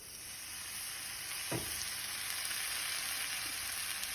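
A buttered sandwich sizzles steadily on a heated comal over low heat, a close, even frying hiss with one brief thump partway through and no talking.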